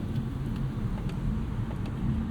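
A 2024 Mercedes CLA 35 AMG, a 302 hp coupe, cruising through city streets, heard as a steady low rumble of engine and road noise from inside the cabin, with no speech.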